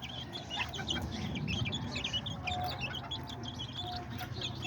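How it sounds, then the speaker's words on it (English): Young chicks clucking and peeping as they eat together in a cage, a busy chorus of soft chirps and clucks close by over a low background hum. "So now it's just the younger chicks."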